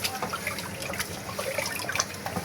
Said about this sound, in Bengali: তো চালগুলা ধুয়ে নিচ্ছি ভালোভাবে